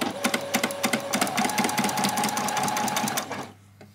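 A sewing machine stitches a doll's dress seam, running quickly with a rapid pulsing needle rhythm across, backwards and across again, then stopping abruptly near the end.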